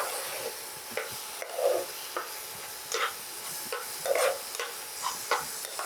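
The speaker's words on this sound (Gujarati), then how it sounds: "આપણે આને 2 મિનિટ જેવું શેકીશું, કન્ટિન્યુ હલાવતા રહીને આ પલ્પને." Yellow date pulp for halwa is stirred and roasted in a pan, a spoon scraping and turning it in repeated soft strokes over a faint, steady sizzle, close and fairly quiet.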